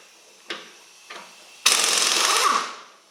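A compact Urceri cordless impact wrench loosens freshly torqued lug nuts, starting with two short separate bursts and then breaking into one loud, sustained hammering run of about a second that ends abruptly.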